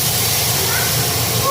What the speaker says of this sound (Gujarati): ટિંકલબેન અહીંયા દાળનો વઘાર ઉઠાડે છે